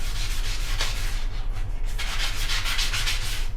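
Crocs clogs scrubbed up close with a foam sponge, giving steady, rapid rubbing strokes in a continuous rhythm with brief pauses between bursts; nobody talks.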